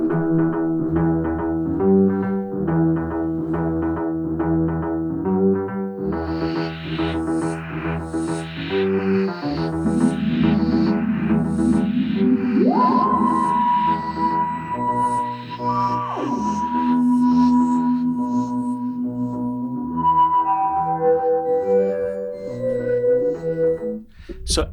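A theme built from analog tape of a single plucked string, manipulated into a pulsing bass ostinato with swooping, gliding electronic-sounding melody lines and echoing tones, loud and continuous throughout.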